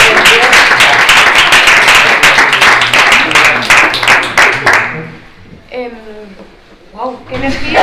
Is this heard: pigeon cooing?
no